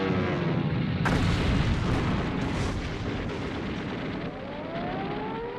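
Bombing explosions and artillery fire from the Pearl Harbor attack form a dense, continuous roar with a heavy blast early on and whining, siren-like tones sweeping through the din.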